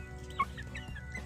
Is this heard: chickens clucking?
yes